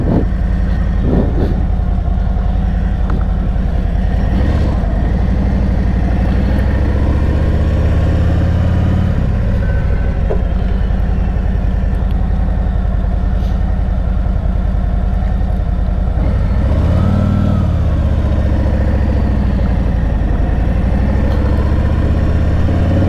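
A Harley-Davidson Freewheeler trike rumbles loudly and continuously on a ride, its engine note swelling and easing a few times as it travels, with no voices.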